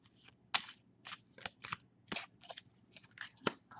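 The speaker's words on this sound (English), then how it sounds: "as I'm shuffling the deck" A tarot card deck shuffled by hand close up, a series of crisp separate snaps and riffles in an irregular rhythm, quiet and alone in the room.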